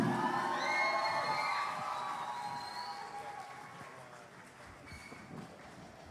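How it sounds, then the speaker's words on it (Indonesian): Audience at an international mask festival in Denpasar, Bali, cheers and applauds after a Calonarang performance, loud whoops and shouts swelling then gradually fading, with scattered clapping beneath. "Sekali lagi berikan tepuk tangan yang luar biasa."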